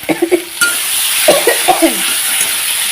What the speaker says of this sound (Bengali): আদা বাটা জিরে বাটা রসুন বাটা এটাও দিয়ে দিলাম